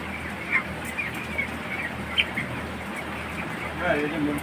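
Day-sixteen broiler chickens at an antibiotic-free poultry farm give faint, scattered high peeps and chirps over a low steady room hum, while a person talks nearby.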